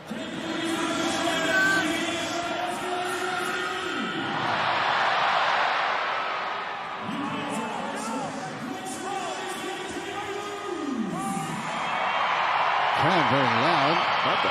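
Loud stadium crowd at a Kangaroos v Toa Samoa rugby league match in the Pacific Championships, a broad roar that swells and fades under near-continuous commentator talk.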